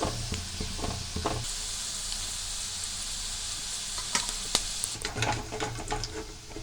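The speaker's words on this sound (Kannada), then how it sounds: "ಅದನ್ನು ಕೂಡ ಚೆನ್ನಾಗಿ ಫ್ರೈ ಮಾಡ್ಕೋಬೇಕು ಎರಡು ಸೈಡು" Onion pakoda deep-frying in hot oil gives a steady, dense sizzle throughout, close and fairly loud, with scattered crackles and a few sharp pops near the end, and no talking.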